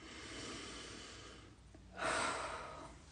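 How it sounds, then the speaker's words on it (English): A slow, deep breath drawn in and then released during a guided forgiveness meditation: soft airy inhalation, a brief pause, then a louder, close exhale. "Deep breath in."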